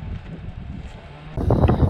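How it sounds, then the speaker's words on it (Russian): Outdoor wind buffets the microphone in a low rumbling roar that gusts louder toward the end. "ветер поднимается"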